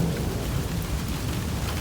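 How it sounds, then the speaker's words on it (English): A Kansas thunderstorm with steady, loud rain and rumbling thunder fills the whole stretch as a dense, continuous roar with no voices. "The thunderstorm is here."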